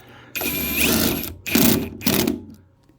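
Cordless DCK brushless impact driver running in fastener removal mode, giving three loud close bursts of rapid hammering, a long first burst followed by two shorter ones with brief gaps between.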